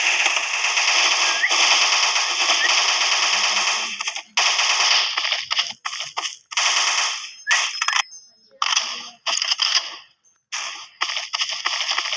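Rapid bursts of shotgun and automatic gunfire in a video game, loud and close, with dense stretches of firing broken by short gaps and scattered single shots.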